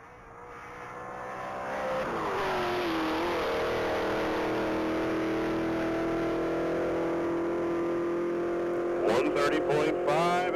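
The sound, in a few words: stock Chevrolet Camaro SS accelerating on top speed pass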